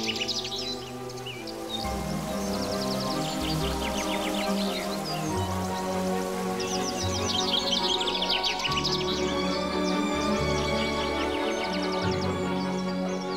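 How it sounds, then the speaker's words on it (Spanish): Many spring birds sing in the wild to attract mates, overlapping chirps and warbled phrases rising and falling steadily throughout, loud and close over a background of rustling. "Los pájaros cantan para atraer a su pareja."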